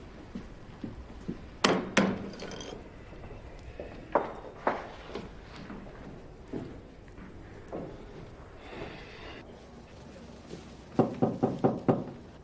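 Knocking on a door indoors, with loud clustered raps near the start, scattered single knocks through the middle, and a final quick burst of several knocks toward the end.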